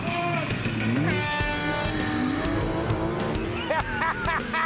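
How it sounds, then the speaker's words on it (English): A high-performance sports car launches hard from a standstill with the throttle floored, its engine note climbing steadily in pitch through the gears, loud and close, with tire squeal and a roaring rush of acceleration. "right foot to the floor on the throttle, and just launch it"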